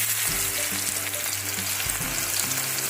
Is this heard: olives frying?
yes